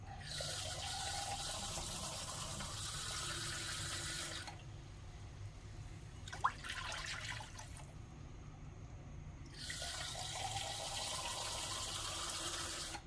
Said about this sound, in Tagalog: Maglagay na tayo ng tubig